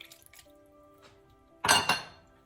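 Water splashes briefly into a pan of pineapple after a few quiet clinks, a short, close pour lasting under half a second.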